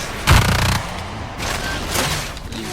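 Video game gunfire from the sci-fi monster-hunting game Evolve: a loud burst of rapid shots near the start, followed by further bursts of firing and explosive booms at a steady mid distance, with no speech.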